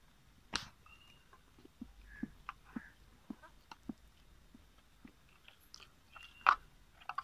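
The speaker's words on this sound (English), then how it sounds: "let's try these noodles" Close, quiet mouth sounds of someone eating Nissin Italian Delight cup noodles: soft chewing and slurping with scattered clicks and small wet smacks, one sharper pop near the start and another loud one near the end.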